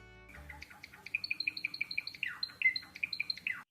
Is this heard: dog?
no